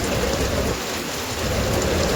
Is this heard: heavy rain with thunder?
yes